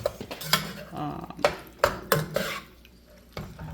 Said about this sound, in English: I'm gonna stir in the first half of it